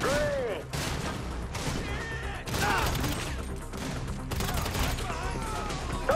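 Bursts of GTA V gunfire pop in clusters alongside game sound effects and sweeping tones, a busy mid-level firefight with rapid shots recurring across the span.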